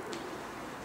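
A soft, low coo from racing pigeons sounds briefly against a muffled background hum.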